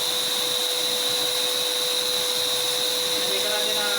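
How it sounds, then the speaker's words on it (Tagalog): A large blower roars steadily and loudly at close range while feeding a strong fire in a chamber, a constant broadband rush with a sharp whine layered on top and no pauses. "Ito yung blower natin guys."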